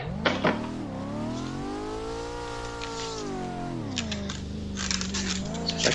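A car drifting in a racing video game, the engine holding a steady high revving drone in third gear that rises and falls, with short tire squeal bursts and clicks over it, alone without talk.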